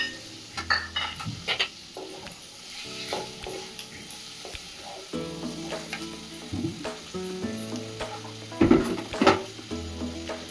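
Chicken with chopped ginger, chili and tomato sizzles in a pan while being stirred, a steady fry punctuated by repeated scraping and clinking of a spatula against the metal, close and with no talking.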